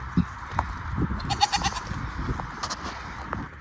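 Sheep on a Michigan farm bleat repeatedly from close range, several wavering calls overlapping one another against low barn noise, with no talking.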